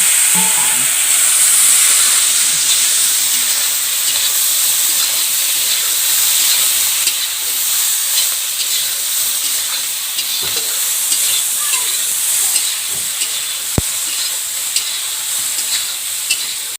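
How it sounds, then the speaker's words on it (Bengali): Eggplant slices frying in hot oil, a steady close sizzle and hiss with occasional stirring clinks, continuous and loud throughout. "এই তেলে বেগুনগুলো ভেজে নেব।"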